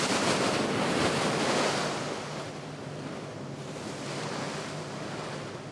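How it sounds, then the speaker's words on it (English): Rough Antarctic seas with rolling waves surging and washing steadily, broad roaring surf noise mixed with gusting wind buffeting the microphone, loud and continuous throughout with a slight dip midway. "It's a perfect recipe for rough seas and rolling waves."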